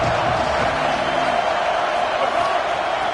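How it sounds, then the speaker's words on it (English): A stadium crowd at a college football game roars steadily on third and goal, a dense continuous wash of cheering with faint commentary-like voices underneath. "This crowd rising up, sensing that its defense needs some help."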